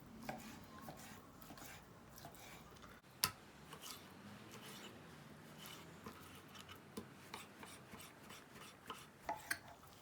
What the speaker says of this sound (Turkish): Hemen şöyle bir etimizi doğramaya başlayalım.